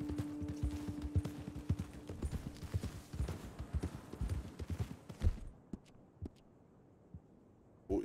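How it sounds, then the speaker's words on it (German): A horse's hooves clip-clop in a quick, uneven rhythm in Red Dead Redemption 2, close and fairly quiet, thinning to a few scattered steps before stopping. "Ach, was ein schönes Pferd."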